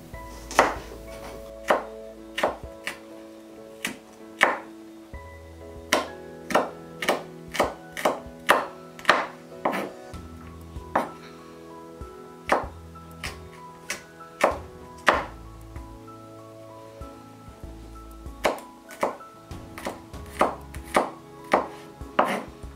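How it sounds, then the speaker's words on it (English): Garlic is finely chopped with a knife on a board for a vegan aubergine masala: a long run of crisp, close knife strikes, irregular at first and then in quick bursts, with no talking. "The garlic will be finely chopped, or minced if you have a mincer."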